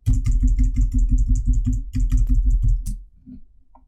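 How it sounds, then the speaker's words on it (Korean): Rapid, even key presses on a computer keyboard, Shift held with the arrow keys, about fifteen loud close taps in a steady rhythm, then they stop and it goes quiet. "Shift 방향키 15번 누를게요."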